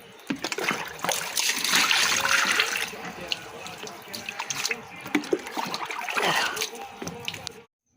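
Tap water runs steadily into a kitchen sink, a broad close rush with splashy spatter that swells and eases over several seconds before cutting off, with faint clinks of dishes.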